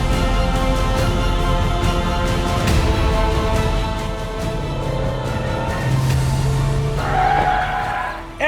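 Several cars lapping the Buddh International Circuit during an open track day, engines revving and passing close with tyre squeal and skidding, a continuous loud roar of motor noise throughout.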